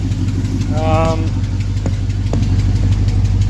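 A 1975 pickup truck engine idles with a steady low rumble, and a voice briefly speaks over it.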